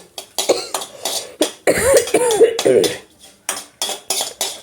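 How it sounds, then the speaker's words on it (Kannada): A heavy, thick-bottomed metal cooking pot clanks and scrapes several times in quick succession close up as it is set down, with a cough partway through. "ಒಂದು ದಪ್ಪ ಥರದ್ರ ಪಾತ್ರೆ ಇಟ್ಕೊಡ್ರಿ"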